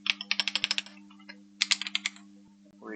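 A SQL query is typed on a computer keyboard in two short bursts of crisp, close keystrokes separated by a pause, with a steady electrical hum underneath.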